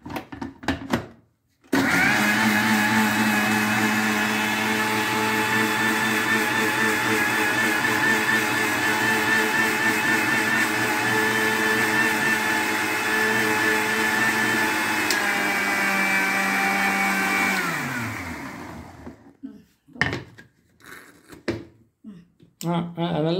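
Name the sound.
mixer grinder blending tomato, sago and rice batter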